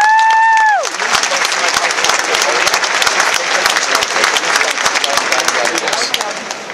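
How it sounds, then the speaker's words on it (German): Applause from a crowd at the 2008 Young Rider World Cup equestrian event rises after a tone fades and continues as dense, steady clapping for several seconds. "Ihr Applaus"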